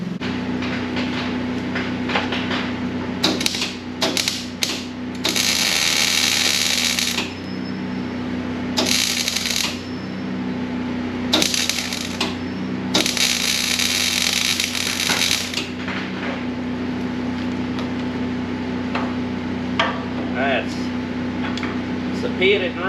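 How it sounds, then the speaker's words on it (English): A flat bar piece is welded onto a pitted, rusty Massey 245 tractor part. Several bursts of crackling arc a few seconds long come and go over a steady machine hum. "I'm gonna just take a piece of flat bar, set up here, weld through there, weld through there"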